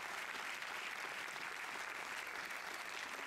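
Steady audience applause at an award ceremony, a dense continuous wash of clapping filling the room with no pauses or talk.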